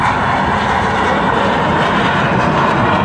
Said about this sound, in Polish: Korsarz, myśliwiec z Nord Pacyfiku, bardzo charakterystyczna sylwetka, charakterystycznie wygięte skrzydła i para samolotów.